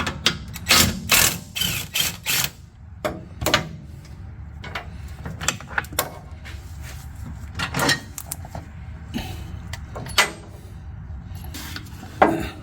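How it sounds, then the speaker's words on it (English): Hand ratchet working the lower shock bolt on a 2007-2021 Toyota Tundra, close sharp clicks and metallic clanks in irregular bursts over a faint low background. "We're going to remove the lower shock bolt."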